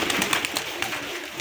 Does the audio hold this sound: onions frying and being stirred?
no